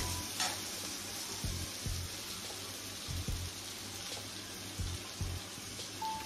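Soft, steady sizzling and bubbling from water added to a hot pan of garlic paneer with butter, with faint stirring clicks and scrapes scattered through.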